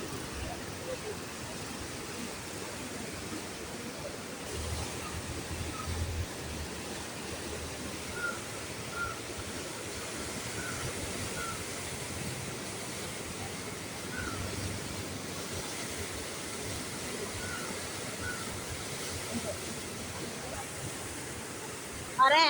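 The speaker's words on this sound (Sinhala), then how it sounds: "අර කඩේ ඇතුළට වතුර යනවනේ අර" Floodwater around fifteen feet deep rushes into a shop in Welimada, a steady, loud, broadband roar of churning water that continues without a break from start to finish.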